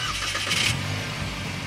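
A Chevrolet S10 LTZ pickup with the 2.5 Flex engine, 4x4 and automatic gearbox starts up by remote start: a brief cranking burst that settles into a low, steady idle rumble with no one talking.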